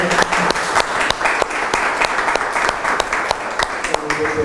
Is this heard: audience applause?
yes